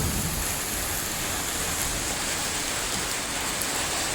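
Heavy rain pours down in a steady, dense rush of noise that never lets up, near the Church of the Holy Prophet Elijah in Raotince village.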